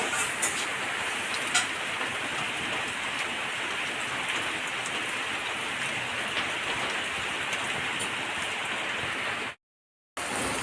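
Rain falling outside makes an even, close hiss of drops with occasional ticking drips, steady until a sudden cut to silence near the end.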